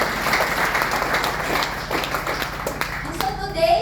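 An audience at a leaders' sharing event claps together, a dense, lively patter of hands that carries on steadily and then thins out toward the end. Some speech mixes in under it.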